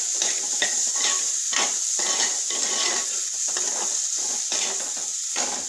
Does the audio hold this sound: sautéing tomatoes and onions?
yes